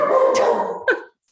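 A dog barks and yips indoors during an online meeting, a few close, loud vocal bursts ending in a sharp yelp before silence.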